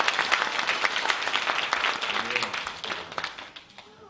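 Church congregation applauding during a Christmas Day Sunday service, a dense burst of many hands clapping at close range, with a voice speaking over it as the clapping tapers off near the end.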